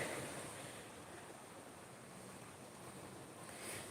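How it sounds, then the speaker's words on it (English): Steady broadband rush of water flowing in a creek at Greenough Park, continuous and fairly even throughout with a slight swell near the end, no voices. "here we are on this creek"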